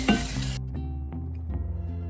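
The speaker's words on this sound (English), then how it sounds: "I'm doing this on low heat. I just want the shrimp to get coated." Shrimp stirred through seasoning in a pan over low heat: a soft sizzle with scraping stir strokes, close and fairly quiet, with no voices.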